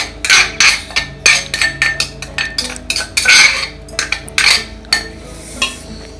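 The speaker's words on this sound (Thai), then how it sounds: "คลุกเคล้าให้เข้ากันก่อน" Spicy chicken feet salad with rice noodles being tossed in a metal pot, a rapid series of loud clanks and scrapes from a utensil against the pot, close up and irregular, with no talking.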